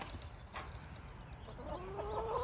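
Chickens cluck softly over a low rumble of background noise, with a rising bird call near the end.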